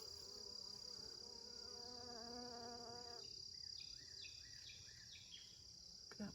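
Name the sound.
bees buzzing in garden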